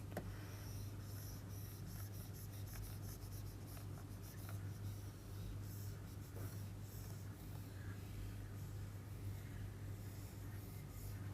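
Chalk or a felt eraser rubbing steadily across a classroom board during a lecture, a continuous dry scrubbing rasp with repeated back-and-forth strokes over a low steady room hum, no talking.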